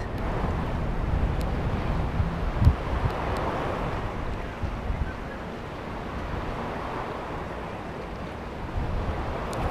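Strong wind at sea buffets the microphone during a fishing trip off Pulau Undan, a steady, loud roar with gusty swells, the sound of a boat and water beneath it and occasional small knocks.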